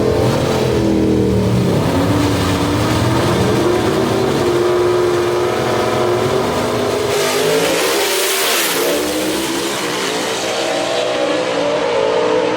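Gasser drag race car at Knoxville Dragway roaring hard as it accelerates down the strip, a loud sustained engine howl with rising pitch through the run, close and continuous.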